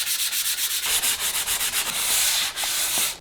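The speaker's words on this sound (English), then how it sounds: "I'm just gonna hit this with a 220 fine grain sandpaper just to smooth out that base layer" Fine 220-grit sandpaper rubbed by hand over a primed wooden bench, a steady back-and-forth scratching in quick regular strokes, close and alone, easing briefly toward the end.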